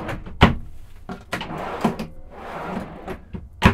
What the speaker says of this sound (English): Three large fully extension drawers on soft closing slides and RV latches to keep them closed whenever you're driving.